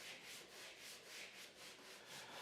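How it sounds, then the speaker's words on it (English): A 30-inch radius sanding block with 220-grit paper rubs back and forth along a guitar fretboard, making a steady, rhythmic swishing of even strokes, close and fairly soft, with no voices. "I'll sand the fretboard using a 30-inch long radius sanding block that has a radius that matches the fretboard"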